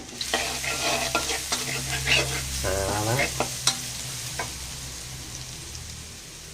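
Garlic sizzles steadily in a hot pan while a utensil scrapes and stirs through it; a voice speaks briefly over the frying.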